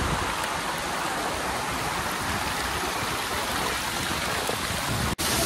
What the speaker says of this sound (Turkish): Toroslar'dan patlayan su burayı alıp götürüyor aşağıya doğru.